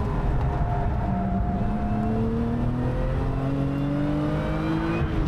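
A Lotus Emira sports car engine revs up through rising gears, its tone climbing steadily as it accelerates nearby, loud and continuous.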